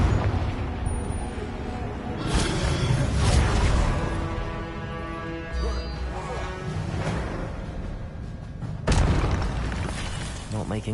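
Spell blasts in the Hogwarts Legacy video game erupt as deep booms and bursts over rumbling game effects, fairly loud and close, with a couple of sharp hits partway through.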